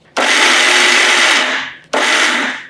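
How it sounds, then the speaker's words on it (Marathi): A kitchen mixer grinder whirs loudly as it grinds dry fruits for poha laddoos, running in one long burst of about a second and a half, stopping, then starting again for a second burst. "सुकामेवा देखील मिक्सरला छान दळून घ्यायचं."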